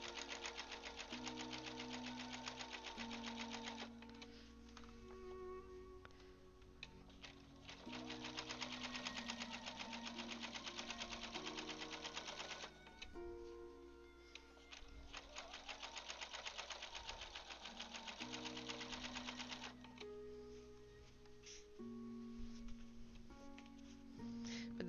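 A home sewing machine runs in long continuous bursts while straight-line quilting the border of a Seahawks quilt with fleece backing, its steady motor hum and rapid needle stitching broken by short pauses between passes.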